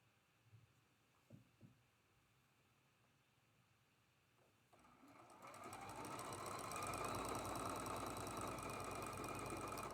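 A sewing machine runs steadily for the last five seconds, stitching a seam across a traditional quilt block, after a quiet stretch with a few soft knocks and handling sounds.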